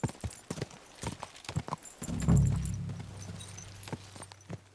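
Horse hooves clip-clop in the medieval game Kingdom Come: Deliverance II, a run of sharp, close hoofbeats followed by a loud snort or whinny midway, then a few more scattered steps.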